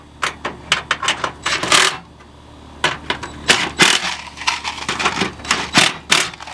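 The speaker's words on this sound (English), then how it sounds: "So then use a screwdriver on the outside" A screwdriver tightens screws on a raised garden bed kit, making a close series of sharp metallic clicks and ratcheting scrapes in irregular bursts, with a brief lull partway through.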